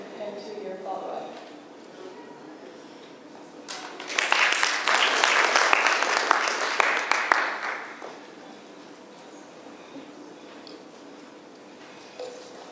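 Audience applause after a presentation at an impact conference panel, a dense burst of clapping swelling for about four seconds mid-clip, with quieter speech before and after.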